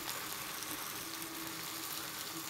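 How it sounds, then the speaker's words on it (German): Butter heats in a sauteuse or pan in a restaurant kitchen, giving a faint, steady, even sizzle with no voices. "Ein bisschen Butter halt wieder. Ja, so. Das tun wir jetzt erhitzen."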